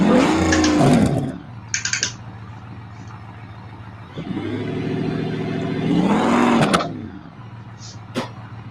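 A rock crawler's engine revs hard at a rock crawl event, rising and falling in two strong bursts with a lower idle drone between them, close and loud.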